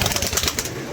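Captured pigeons cooing close by, a brief soft run of throaty coos with a little rustling behind them.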